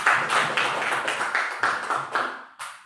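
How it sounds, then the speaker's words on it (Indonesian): An audience at an SDN 01 Pasaman school gathering applauds after Bu Susi's performance, with a steady run of handclaps and several distinct bursts. It is moderately close, fades at the end, and no voices are heard. "Kita beri tepuk tangan untuk penampilan Bu Susi"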